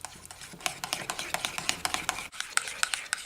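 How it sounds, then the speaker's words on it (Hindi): Rapid, rhythmic stirring of ketchup and hot sauce into a sauce, a steady series of soft wet clicks and scrapes from a utensil against a bowl, close and fairly quiet, with a brief pause before the mixing resumes. "इसको अच्छी तरह से मिक्स करके इसकी सॉस बना लेंगे।"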